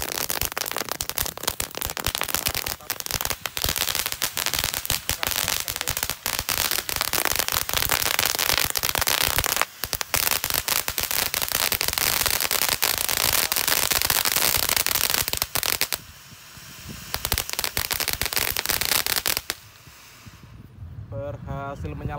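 Two mercon firecrackers lit together with a fan propeller pop off in a long, loud, continuous barrage of sharp crackling bangs, broken by a couple of short lulls near the end.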